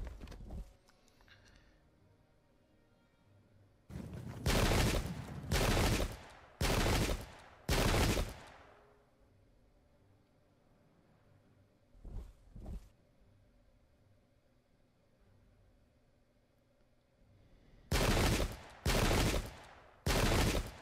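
Musket volleys in a Pike and Shot English Civil War battle game, loud bursts of gunfire in clusters separated by quieter stretches, a few isolated shots between them.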